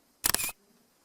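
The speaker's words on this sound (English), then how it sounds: "So now I'll take the test exposure." A single-lens reflex camera shutter fires for a timed test exposure while photographing a railway model, giving one sharp, close burst of clicking and whirring that lasts about a third of a second, then silence.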